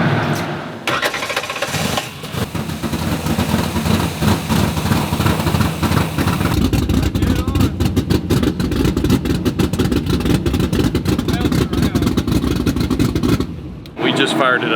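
A car engine cranks over and settles into a loud, rough idle at Holley Ford Fest, rumbling steadily at close range with a sharp burst at startup and a cutoff near the end, people talking over it.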